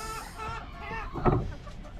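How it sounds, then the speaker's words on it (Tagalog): Chickens cluck in a backyard coop holding a fifth batch of two-month-old birds, with steady overlapping clucks close by and a louder burst of calls partway through. "papakita ko muna sa inyo yung ano, pang fifth batch ko na alagang manok."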